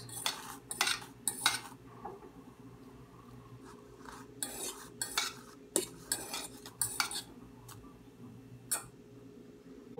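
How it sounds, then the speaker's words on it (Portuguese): A fork fluffs Moroccan couscous in a dish, producing quick bursts of light scraping and tapping against the bowl, separated by short pauses over a soft background hum. "Agora, com o garfo, nós vamos soltar o nosso cuscuz."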